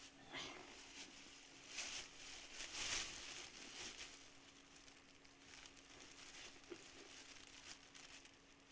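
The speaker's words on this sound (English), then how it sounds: "She just wants to lick the plastic bag." A cat licks a plastic bag: soft, irregular crinkling, close and quiet, with small wet licking-like ticks and a faint steady hum underneath.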